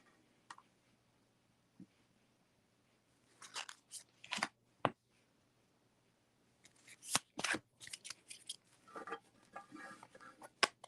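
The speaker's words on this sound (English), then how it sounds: "I'm going to shuffle these cards." Tarot cards are shuffled close up at a reading, in scattered bursts of crisp riffling and soft slaps separated by quiet pauses, with no voices.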